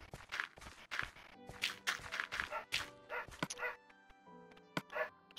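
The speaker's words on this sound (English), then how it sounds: "Oh, dogs, please be quiet. You're loud." Minecraft dogs bark repeatedly in short loud yips and woofs, mixed with blocky in-game footsteps and thuds, with a sparse pause before a couple of final barks.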